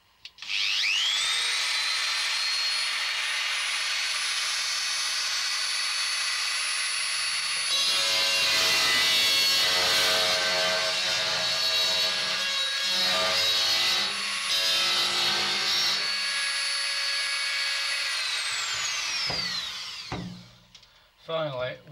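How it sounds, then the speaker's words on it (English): A power drill bores through a door as a story sound effect, a steady high-pitched whine that grinds on for about twenty seconds with rougher scraping in the middle before winding down. "Leighton positioned the drill exactly to drill through the door."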